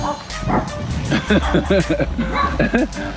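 Several small dogs bark in short, sharp yaps at a passing cyclist on a mountain bike, close by and bunched in the middle of the clip, while someone talks over them.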